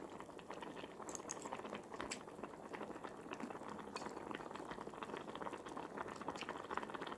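Noodles boil hard in a very hot pot, a steady, dense bubbling and roiling that carries on evenly throughout, close and fairly quiet.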